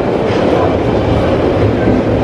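An eastbound London Underground train approaches the platform at Heathrow Terminal 2 with a loud, continuous rumbling roar throughout, close by and steady.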